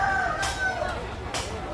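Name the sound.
country chicken rooster crowing at a meat market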